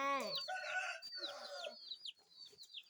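A fighting rooster crows nearby, two loud harmonic bursts followed by fainter clucking calls, clear against a quiet background.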